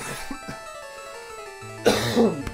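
Single close, brief cough bursting out near the end, following a quiet stretch of soft background music, with a small click just after.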